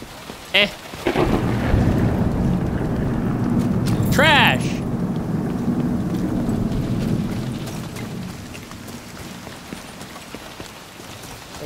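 A loud thunderstorm in the video game The Division 2, with steady pouring rain and deep rumbling that builds and then eases, broken by a couple of sharp sounds, while a person talks over it.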